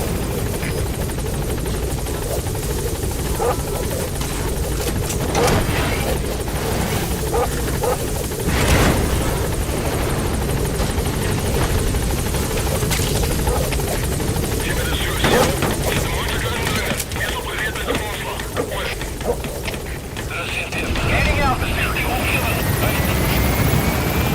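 A helicopter in the video game Metal Gear Solid 5, its rotor and engine droning steadily and loud throughout, with gunfire-like bursts and game effects mixed in and a voice speaking over it.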